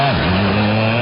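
A motorcycle engine warming up idles steadily with a loud, continuous exhaust rumble throughout, close by and constant, with a slight change in pitch near the start.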